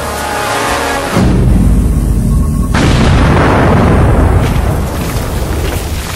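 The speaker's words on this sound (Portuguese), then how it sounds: "Então, quando for detonado, isso vai explodir e produzir uma enorme cratera." A huge ammonium nitrate and fuel oil blast detonates to form a crater, a loud deep boom that erupts suddenly about a second in and rolls on as a sustained, heavy rumble of debris, with no voices.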